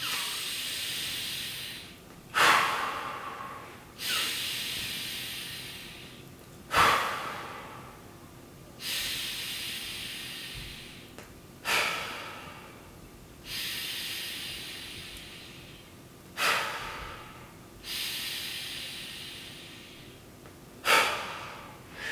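Slow, deep breathing by a person lying on the floor doing a rib-expansion exercise, with about nine long airy inhales and exhales in a steady rhythm, close and fairly quiet, with no talking.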